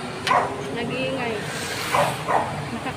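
Dogs on a city street in Makati, Manila, giving a few sharp barks and yips, close and loud against traffic hum, with a person speaking between them.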